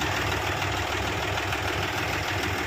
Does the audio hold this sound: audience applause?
no